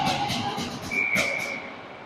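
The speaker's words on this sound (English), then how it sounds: "And we've got a whistle." A referee's whistle blows once during a JV lacrosse game between Centennial and Basha, a single clear blast rising over crowd noise and distant voices.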